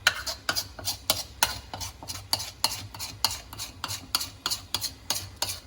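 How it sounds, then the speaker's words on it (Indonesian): Bakso aci ingredients stirred in a bowl, a steady run of quick scraping, rubbing strokes about twice a second, close and fairly quiet with no talk. "Kita aduk sampai merata semua."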